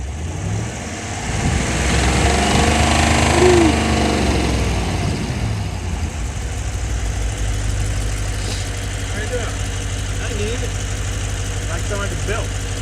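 A Hemi car engine idles and revs close by, running rough from a misfire, with a faint rhythmic ticking and chirping under the steady mechanical hum.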